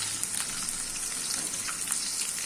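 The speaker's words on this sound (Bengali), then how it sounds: "পেঁয়াজটা কিছুক্ষণ ভাজা ভাজা করে নিয়েছি।" Chopped onions with bay leaf, cardamom and cloves frying in a pan, a quiet, continuous hiss with faint crackles, close by and steady, no talking.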